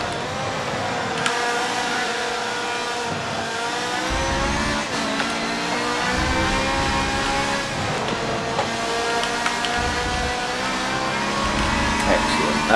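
A Ferrari race car laps the Spa circuit, its engine droning loudly and continuously from inside the cockpit, rising and falling in pitch through gear changes and corners, with a voice speaking over it.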